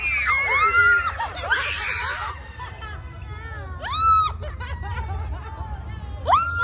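Shrill screams burst out in short bursts over a low rumble inside a haunted house attraction, mixed with nervous laughter and crowd chatter, some cries close, others further off.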